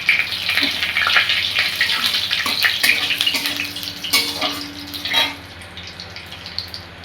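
Whole cardamom, cumin seed, bay leaf and a bit of cinnamon sizzle in hot oil for a tempering, crackling and hissing nearby, with a few clattery stirs before the sizzle dies down toward the end.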